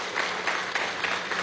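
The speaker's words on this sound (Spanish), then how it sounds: "Aplauso, vale." Dense crowd applause at an outdoor cacao and rum fair in a Caracas park, a steady wash of many hands clapping with small swells, close and loud with no clear talk above it.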